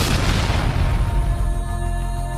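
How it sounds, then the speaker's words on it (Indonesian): Heavy naval cannon fire from a destroyer in the Java Sea, a deep loud boom that rolls and slowly fades into a long rumbling tail. "meriam-meriam kapal destroyer Pitt Heen menembakkan bom, mortar, dan senjata berat lainnya."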